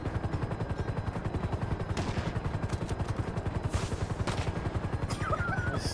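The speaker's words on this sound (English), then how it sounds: "Oh, flare gun. It's on the way. Don't fire flares." Flare gun fired repeatedly in the GTA V video game, a fast rattling burst of sharp pops running steadily throughout, fairly quiet and with no talk over it.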